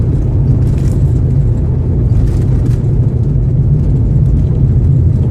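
A car cruising along a road, a steady low rumble of engine and tyres with constant road noise throughout. It sounds close and loud from inside or near the vehicle, with no talking.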